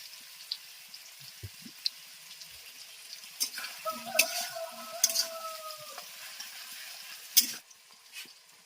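Onions and potatoes with a little salt frying in a pan, a faint low sizzle broken by scattered scrapes and clinks of stirring, with a few louder knocks from a utensil against the pan near the middle.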